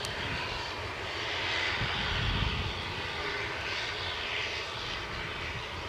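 An airliner waiting for departure at Edinburgh Airport holds its engines at idle, giving a steady, broad roar that swells slightly and stays constant throughout.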